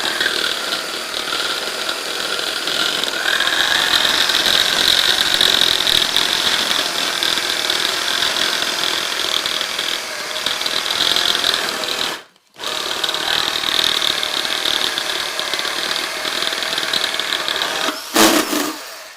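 Cake pop mixture being mixed with cream cheese in a machine: a steady, loud, close motor whir with a strained high hum that runs continuously, briefly cuts out, then resumes and ends with a short clatter.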